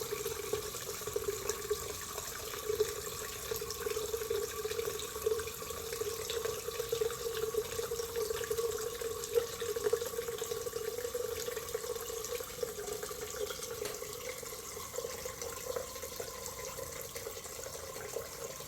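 Wisteria lime mead pours from a spout into a sieve as a steady, continuous trickling stream, close and fairly soft, keeping an even flow from start to finish.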